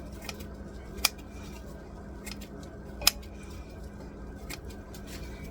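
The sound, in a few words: scissors cutting frozen carrots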